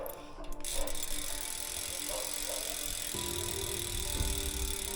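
A steady ticking rattle of a ZTTO bicycle rear hub freewheel spinning, continuous and fairly close, with mechanical whirring and no clear speech.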